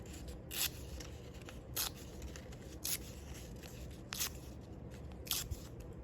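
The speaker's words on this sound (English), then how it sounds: "I'm gonna rip this one." Paper is torn by hand in a craft activity: five short, bright rips spaced about a second apart, fairly close, over a steady low background hum, with no talking.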